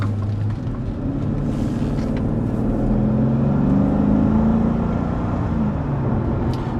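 A 1999 Mercedes-Benz E55 AMG driving steadily, its engine note a constant, fairly loud drone from inside the car with a gentle rise in pitch as it pulls through the gears, no talk.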